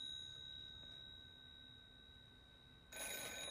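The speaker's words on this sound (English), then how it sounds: "That could be the phone call from Rothstein." A telephone rings in a TV drama scene, with steady high ringing tones sitting over a quiet room background and a louder burst near the end, no talk heard.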